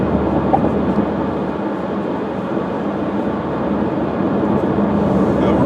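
A train rumbles steadily across a trestle at about 55 to 59, a loud continuous low roar and rattle heard from on board, unbroken throughout.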